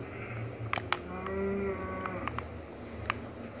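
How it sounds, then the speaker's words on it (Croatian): A cow in the video game Minecraft lets out a sustained low moo in the middle, with a few sharp clicks around it against a quiet background. "Krava me prati"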